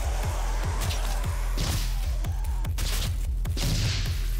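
Micro missiles fired in the video game DOOM make a rapid regular series of punchy low thumps, about a dozen close shots in quick succession over a loud, continuous game soundscape with whooshing bursts.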